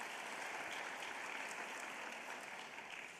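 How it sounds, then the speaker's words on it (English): Steady, fairly faint applause from an audience at a school teacher-of-the-year celebration, continuous broadband clapping with no pauses across the whole moment. "Let's give her another big round of applause"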